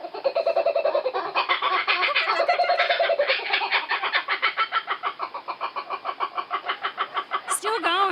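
A kookaburra calls at six in the morning in Australia, a loud, nearby rollicking laugh of rapid repeated hoots that starts in long rising bursts, then settles into a steady pulsing chatter, ending with a sharp squeaky note.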